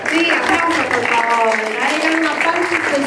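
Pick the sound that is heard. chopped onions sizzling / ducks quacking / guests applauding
guests applauding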